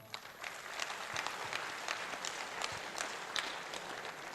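Steady applause from a conference audience, many hands clapping densely and evenly for several seconds with no talk over it.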